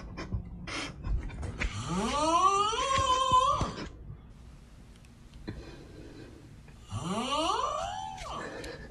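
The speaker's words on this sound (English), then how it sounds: "Gotta be the most embarrassing snore of all time." Two long, drawn-out snores, each a rising, whining, wheezy tone lasting a couple of seconds, come with a quieter gap between them and are heard close up with no talking.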